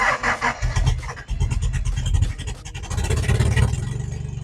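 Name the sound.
1982 Toyota Celica Supra engine starting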